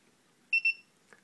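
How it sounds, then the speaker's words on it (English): Two quick, sharp electronic beeps in a row from a digital readout, clear and close, followed by a faint click in otherwise quiet surroundings. "And you emit a beep sound."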